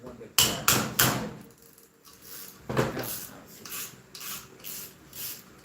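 Sharp metallic taps strike valve spring retainers on an engine head to seat them, with an air compressor left running; three quick close hits, a pause, then another tap followed by rubbing and scraping sounds.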